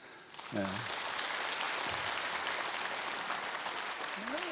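Applause from a concert audience at a cantata performance swells in after a brief spoken word and holds steady as a dense, rain-like wash of many hands.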